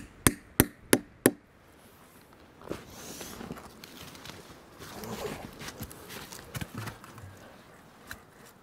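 Four sharp, evenly spaced hammer blows ring out up close as a maple syrup tap is driven into a tree outdoors, followed by rustling, footsteps and a few lighter knocks.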